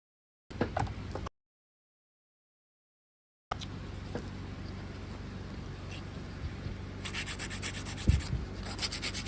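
An 80 grit file rubs and sands acrylic nails in steady back-and-forth strokes, close and moderately loud, with a brief burst near the start, a pause, then continuous scraping that quickens toward the end.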